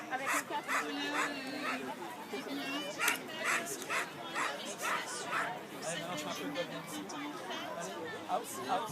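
Dogs at a spring fair in Geispolsheim, repeated barks and yips scattered through a busy outdoor crowd with steady chatter and talking nearby.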